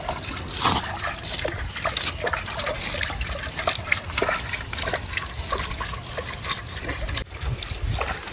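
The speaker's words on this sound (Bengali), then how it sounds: "শাকে জল দিয়ে দিচ্ছি" Water splashes and trickles steadily onto leafy greens in a home garden bed, continuous close pouring with small bursts, while a dog barks now and then and voices murmur faintly.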